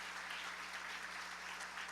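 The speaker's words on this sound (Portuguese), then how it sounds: "nós vamos recebê-lo aplaudindo ao Senhor com alegria" A church congregation claps to welcome their presbyter, a continuous wash of applause heard faintly at a distance over a low steady hum.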